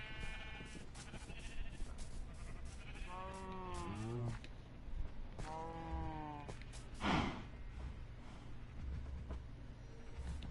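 Sheep in the video game Minecraft Bedrock Edition on PS4 give two clear bleats a couple of seconds apart, set against a continuous low background rumble.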